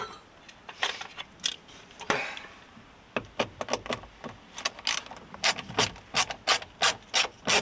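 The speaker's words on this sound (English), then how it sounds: "let's take that one screw out and we'll work back from there" A single screw is backed out of the wing mirror on a 2008-2013 Honda Jazz, giving a close run of sharp ratcheting clicks and scraping rubs that quicken into a steady rhythm after a brief pause.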